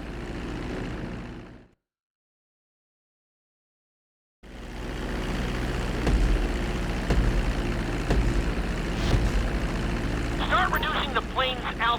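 Airplane engine on a landing approach in GTA 5, a steady broad drone that cuts out briefly and then returns loud and close, with some tonal chirps near the end.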